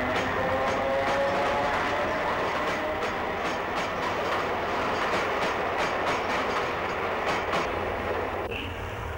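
A 100 mph Class 321 electric multiple unit, built at York for outer suburban services, runs along the rails with a steady rumble, rhythmic clickety-clack and faint wheel squeal, loud and continuous throughout.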